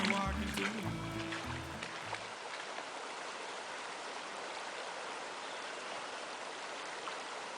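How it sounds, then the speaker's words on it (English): Clear river water flowing over a ford in the Wind River Range, a steady broad rush heard close, with a voice talking briefly over it at the start. "A little taste of clear water fording in the Wind River Range."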